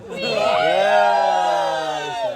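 Boys celebrating after finally securing a spot, a loud, sustained burst of crowd cheering and whooping with overlapping shouting voices, rising and holding for a couple of seconds before tapering.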